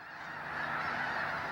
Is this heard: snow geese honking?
yes